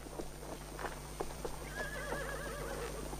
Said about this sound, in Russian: Да останови ты эту чертову лошадь и поговори со мной.